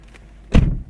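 A Lexus IS250 car door opens with a single solid thunk partway through, close and fairly loud, followed by a brief low rumble in an otherwise quiet interior.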